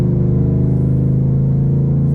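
A truck engine idles and revs at close range, with a steady, deep, throbbing rumble under no talk.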